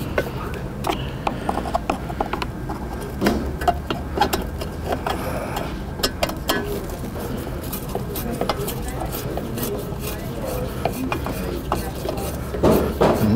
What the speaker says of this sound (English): and just tighten your screws back down.